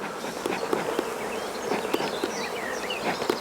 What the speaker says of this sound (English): a little bit of smoke at the top here drives the bees away